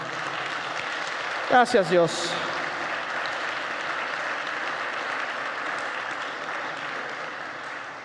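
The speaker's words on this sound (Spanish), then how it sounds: "Denle un aplauso al Señor." A church congregation applauds for the Lord in a steady, dense wash of clapping that holds for about eight seconds, while a voice speaks briefly over it near the start.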